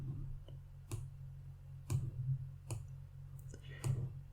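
Computer mouse clicks while working in a diagram view, a handful of sharp close taps spaced irregularly over a low steady hum.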